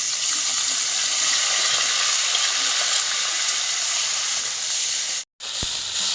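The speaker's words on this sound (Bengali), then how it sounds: "এদিকে তেলটা গরম হয়ে গেছে। এবার চিকেনগুলো দিয়ে দেবো।" Marinated chicken mince deep frying in hot refined oil in a kadai, a loud continuous close sizzle and hiss with one brief cut near the end.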